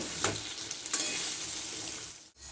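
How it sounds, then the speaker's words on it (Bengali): Potatoes fry hard in a pan over a high gas flame while Bengali jhinge posto is being cooked, giving a steady, loud, close sizzle with stirring scrapes and a brief dip near the end. "আমি আলুটাকে ভালো করে আগে লাল করে ভেজে নেব"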